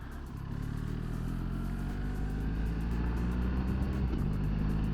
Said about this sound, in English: So down the box now, down to third gear, absolutely no problems at all.